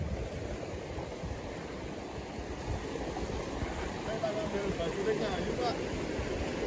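Sungai Lampir, a river near Plantungan in Kendal, Central Java, flowing with a steady, broad rushing wash, fairly close and continuous.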